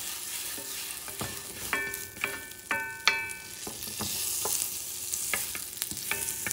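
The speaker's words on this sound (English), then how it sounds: "So I'm going to start with a tiny bit of butter. Cast iron, medium heat." Venison frying in a little butter in a cast iron pan over medium heat, with a steady sizzle and bright clinks of a utensil scraping and stirring against the pan at irregular intervals.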